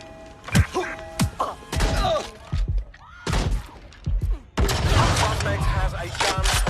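Shotgun blasts in Watch Dogs Legion crack out as several sharp, loud bursts among thuds and clatter, ending in a dense burst of chaotic noise.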